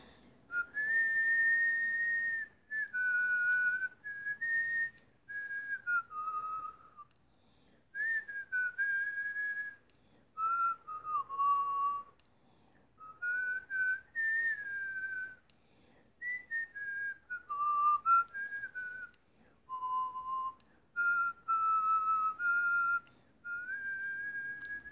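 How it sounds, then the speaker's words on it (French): A person whistles a slow, melodic rock song tune alone, clear sustained notes in phrases broken by short pauses for breath, close and fairly loud. "Je vais vous siffler une de mes chansons préférées"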